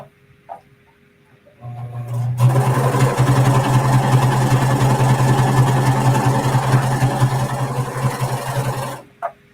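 A Pfaff serger stitching through woven fabric: a few soft clicks, then a steady, fast, close whirring hum that runs unbroken for about seven seconds before stopping abruptly.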